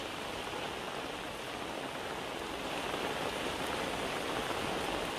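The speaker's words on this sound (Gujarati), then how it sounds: "મોડી રાતથી મહીસાગર જિલ્લામાં ભારે વરસાદ વરસી રહ્યો છે" Heavy rain pours steadily across Mahisagar district in Gujarat, a dense, continuous hiss of drops striking surfaces with no pauses, close and loud throughout, with no voices.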